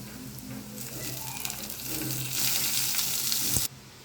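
Close-up sizzling of onions and chopped banana flower frying in a hot pan, the hiss swelling louder as more is added, then abruptly cutting quieter.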